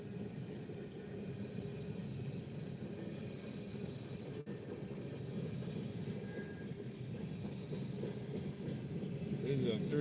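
A westbound Canadian National three-locomotive manifest freight train rolls past in Gary, Indiana, a steady low rumble of wagons and wheels holding for the full stretch at moderate distance.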